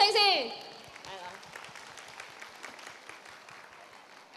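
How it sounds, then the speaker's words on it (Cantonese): Audience applause at a Macau matchmaking show: a brief voice at the start, then a steady wash of clapping that slowly fades away. "俾多啲掌聲先"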